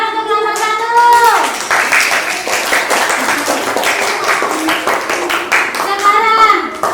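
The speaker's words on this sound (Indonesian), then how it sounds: "Beri tepuk tangan untuk kelompok 1" A group of children clapping hands in a classroom, a busy burst of rhythmic claps with young voices chanting and calling out over and around it.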